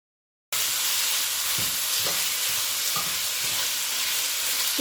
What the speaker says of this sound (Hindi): चिकन डाल के इसको मैं फ्राई करूँगी तकरीबन 5 मिनट के लिए।